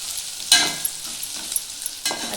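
Garam masala is stirred into chicken gravy frying in a pan, a low sizzle broken by a few sharp spoon scrapes and clinks against the vessel, no talking.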